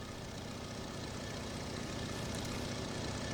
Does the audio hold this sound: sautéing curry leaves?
no